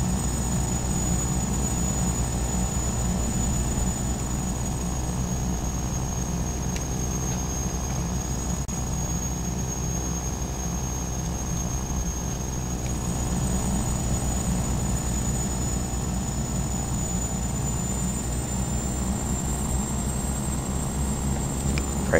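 Piper Malibu aircraft engine in Flight Simulator X, idling on the ground after landing, a steady drone with a constant high whine, unchanging and fairly loud throughout.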